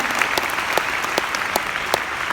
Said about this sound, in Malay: Satu tepukan untuk anda.